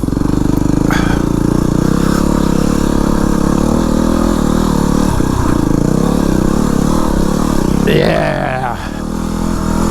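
A Yamaha WR250R dirt bike with a Rekluse EXP 3.0 clutch climbs uphill on tight single track, its engine droning loud and close throughout, rising in pitch as it revs near the end, with a brief voice over it.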